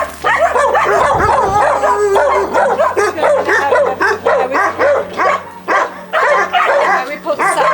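Several dogs at a dog shelter bark, yip and whimper almost continuously and loudly, close by, while a person talks over the din.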